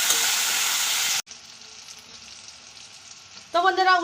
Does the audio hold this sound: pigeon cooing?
no